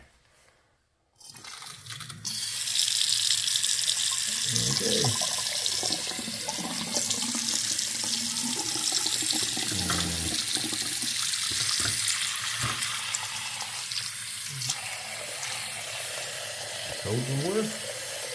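Cold water runs steadily from a newly installed bathroom sink faucet into the sink after a brief quiet start, a continuous splashing rush with a person murmuring briefly.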